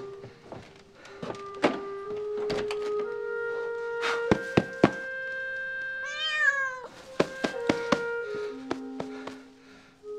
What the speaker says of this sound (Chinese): 喵喵，饿了吧